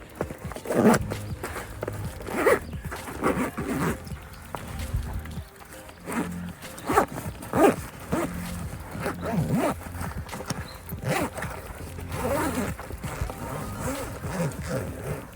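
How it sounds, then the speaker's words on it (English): A zipper being drawn closed along the canvas of a Vagabond Rogue rooftop tent on a 4x4, heard as a series of close, uneven rasping pulls with handling rustles and thumps between them. "You can start closing your zip."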